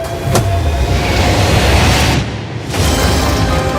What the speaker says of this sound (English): not only is this the fastest car in the world, oh my gosh, it accelerates so fast